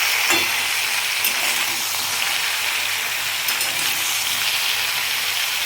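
Mixed vegetables coated in coriander powder and Kashmiri chilli powder frying in a pan, giving a close, continuous sizzle with a few faint scraping stirs, and no talk.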